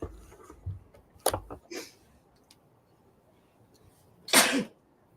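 A single sharp, close sneeze bursts out after a few soft breaths and sniffs, loud against an otherwise quiet room.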